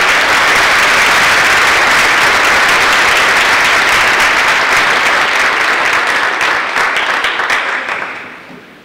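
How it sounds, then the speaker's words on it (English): A large crowd applauds students at the Lima Senior High School Class of 2021 convocation, loud, continuous clapping that holds strong for several seconds before fading out. "Let's give all these students a round of applause."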